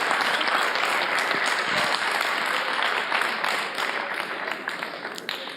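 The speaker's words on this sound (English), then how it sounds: "Can we have a big round of applause for Sasha?" Sustained audience applause fills a hall at a science festival opening gala, dense and steady from start to finish with a slight fade near the end.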